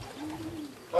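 A tired racing pigeon, a seven-year-old hen, gives a soft, low coo on arrival at the loft during a pigeon race, faint and close, ending with a brief louder burst.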